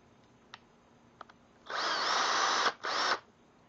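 An 18-volt cordless 1/2-inch variable-speed hammer drill runs at close range, giving a loud, steady whine for about a second. It stops briefly, then gives a second shorter burst. A few faint clicks come before it starts.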